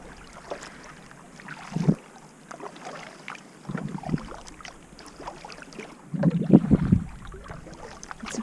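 A canoe paddled across a big, calm lake, with soft water swishes and several louder paddle strokes near the microphone over light wind noise.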